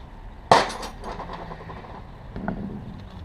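A pulley slides off a Jeep TJ alternator with a sudden sharp metallic clank, followed by faint scraping and a softer knock a couple of seconds later, close and otherwise quiet.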